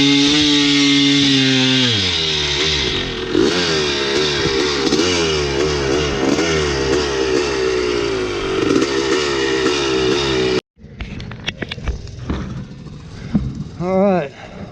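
A 1976 Yamaha YZ400 dirt bike at a motocross farm track runs rough, its engine revving up and down in wavering, uneven surges. It is loud and close, the sound cuts out briefly, then returns with choppier revs and some voices nearby.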